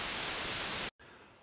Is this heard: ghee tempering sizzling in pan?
no